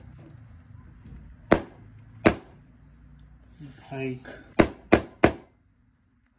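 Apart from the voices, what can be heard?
hammer striking an old mobile phone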